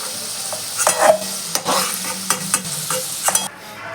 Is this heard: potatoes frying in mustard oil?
yes